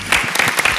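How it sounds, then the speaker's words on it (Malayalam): Applause from a television studio audience for the dancers after a dance performance on a Malayalam reality show, dense and loud, with rhythmic swells of clapping throughout. "ഡാൻസേഴ്സിനും ഒരു വലിയ കയ്യടി."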